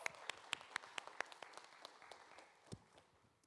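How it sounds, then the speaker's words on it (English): Conference audience at an assistive technology event gives a round of applause: sparse, sharp claps, fairly faint and distant, that thin out and fade over a few seconds. "Can we have a big round of applause?"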